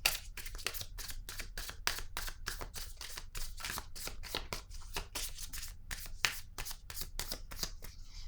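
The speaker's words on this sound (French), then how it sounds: "Je vais piger une carte pour cette zone." A deck of cards is shuffled with a rapid, continuous run of crisp riffling flutters and soft slaps, up close and without any talk.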